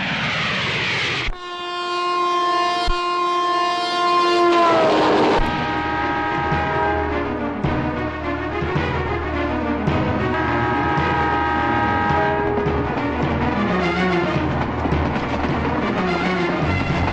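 A train passes close by, sounding a long, loud horn with steady tones for several seconds, then rolling on with heavy wagon rumble and a second, fainter horn blast over the continuous noise.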